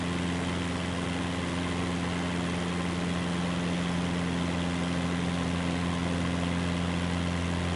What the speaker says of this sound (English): the sound of an airplane could really lull you to sleep